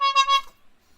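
A horn gives one short, bright honk, loud and close, then fades quickly into near silence.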